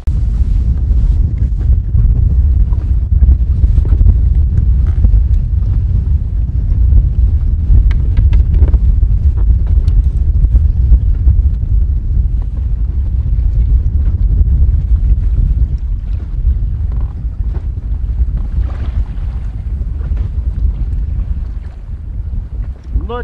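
Strong wind buffets the microphone on a small boat while spin fishing for perch on the Kauno marios reservoir, making a continuous low rumbling roar that runs throughout and eases slightly near the end.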